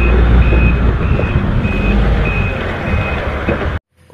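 Reversing beeps from a yellow-and-blue toy water tanker truck, a steady run of evenly spaced high electronic beeps over a loud rumbling drone, ending abruptly near the end.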